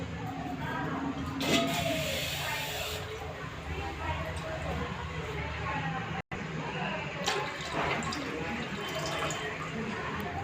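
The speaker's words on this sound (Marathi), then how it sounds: "इथे मी कुकरमध्ये साधारणतः एक ते दीड तांबे पाणी टाकत आहे" Water is poured from a pot into a pressure cooker while cooking urad dal amti, a steady splashing fill that runs across the clip with a brief sharp break midway.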